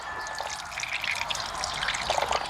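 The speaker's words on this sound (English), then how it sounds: "Then we just pour." A drink mix pours and trickles steadily from a container, a soft splashing wash that continues throughout, fairly quiet and close.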